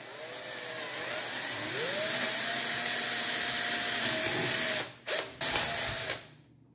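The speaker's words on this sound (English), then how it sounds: "Then we have to drill two holes." A power drill bores two holes for a DIY telescopic antenna mount, a steady whirring tone rising to a higher pitch, then cutting out in two brief pauses before stopping, close and moderately loud with no talk.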